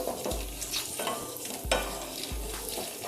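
Almonds and cashews fry in ghee with a soft sizzle, broken by a few low scraping stir strokes at a gentle, fairly quiet level.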